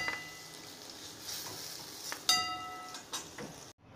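Gram flour gatte dumplings fry lightly in oil with a quiet, steady sizzle, punctuated by a few light taps and clinks of a utensil against the pan before it cuts off.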